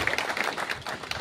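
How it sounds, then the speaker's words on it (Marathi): A crowd claps together at a gathering, a dense, fairly close burst of applause that keeps an even patter for a little over a second. "जरा टाळ्या वाजवा की."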